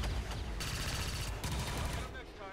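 Squad gunfire in the turn-based strategy game XCOM 2, with a dense burst of rapid shots and crackling impacts running nearly the whole time and a brief dip partway through.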